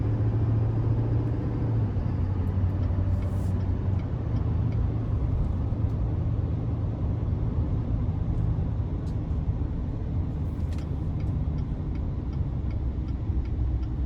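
A 2020 GMC Sierra 3500HD Denali dually pickup with a 6.6-litre Duramax diesel drives along, giving a steady low engine and road rumble from inside the cab that stays even throughout with faint ticking above it.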